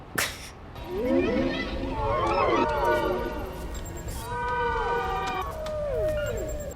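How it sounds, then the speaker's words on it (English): Humpback whale song heard underwater: long, eerie sliding moans and whoops rise and fall in pitch against a murky background wash, with faint voices talking underneath. "Oh, a humpback whale."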